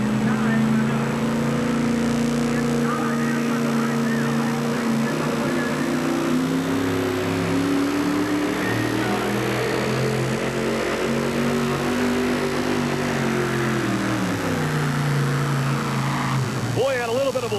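A Ford four-wheel-drive pulling truck roars down an NTPA tractor-pull track in Rock Springs while dragging a sled, its engine loud and sustained, the pitch rising and falling through the run, with an announcer talking over it.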